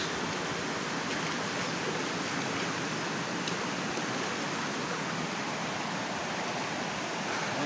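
Water flows down from upstream along a Filipino stream, a steady broadband rushing and hissing that stays constant and fairly close throughout, with no voices over it.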